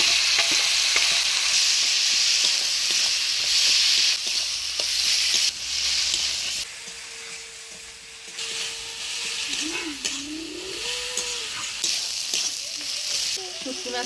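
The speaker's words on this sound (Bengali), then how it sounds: "শুটকি মাছটা পেঁয়াজ রসুন লঙ্কা বাটা দিয়ে বেশ সুন্দর কষা নিলাম" Dried fish sizzles in a pan with onion, garlic and chili paste, a loud steady fry with stirring scrapes that quiets partway through, leaving softer sizzling under faint tones.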